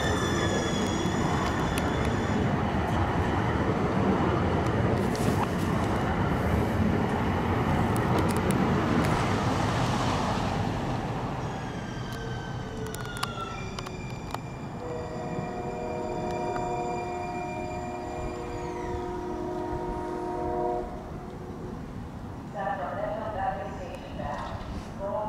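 A low-floor Siemens S700 light rail train arrives at a Sacramento station, with a broad rumble of wheels and traffic, then steady tonal whines and chimes near the end; a voice speaks over the noise.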